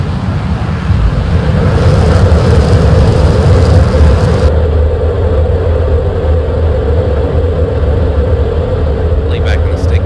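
Fighter jet at full afterburner during a takeoff roll in the DCS flight simulator, a loud, steady roaring rumble that holds throughout and shifts tone partway as the run builds.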